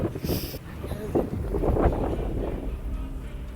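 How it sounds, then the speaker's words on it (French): Strong wind buffets the microphone on a mountain hiking trail in Auvergne, a steady rumbling gust that continues throughout. "il y a trop de vent"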